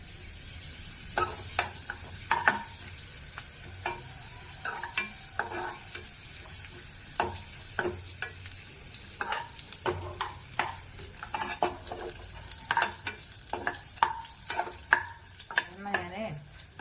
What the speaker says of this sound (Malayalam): ഈ കുഞ്ഞായിട്ട് മുറിച്ച് വെച്ചിരിക്കുന്ന പപ്പടം നമുക്ക് കുറേശ്ശെ ഇട്ടൊന്ന് അതും ഒന്ന് വറുത്തെടുക്കാം